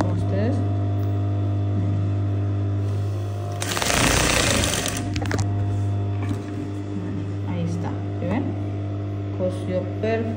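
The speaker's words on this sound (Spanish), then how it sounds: "Miren, aquí voy a coser con ustedes." A home sewing machine stitches fabric with a steady mechanical hum and rapid needle chatter, louder in a brief burst near the middle, while someone speaks Spanish over it.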